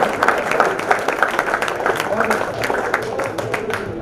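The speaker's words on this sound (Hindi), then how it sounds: "तालियां मिलके बजा लीजिए" Dense applause from an audience at a Haryanvi comedy poetry gathering, steady sustained clapping throughout with a crowd murmur underneath.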